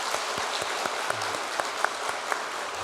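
A church congregation applauds during a Sunday afternoon service, a short burst of close hand claps with distinct individual claps popping out over a dense, steady bed of clapping.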